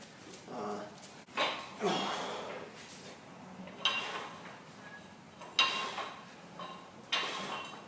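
A dog whimpers and gives short yips and barks in scattered bursts, fairly close, over a steady background hum.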